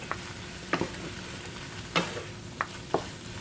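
Hoisin-glazed chicken sizzles steadily in a frying pan, broken by several sharp clattering knocks and scrapes as the pieces are tossed and stirred, close and fairly loud.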